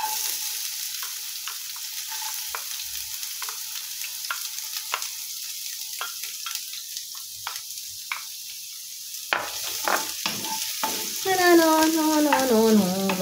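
Onions fry in a pan with a soft continuous sizzle and regular light clicks of a utensil stirring, followed by a louder burst of frying and scraping near the end, accompanied by a faint tonal whine; no voices.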